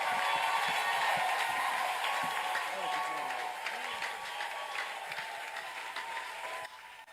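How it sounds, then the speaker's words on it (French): A church congregation applauds and cheers in a steady, dense wash of clapping and crowd noise, sustained and fairly loud throughout before dipping slightly at the end. "acclame, acclame, acclame."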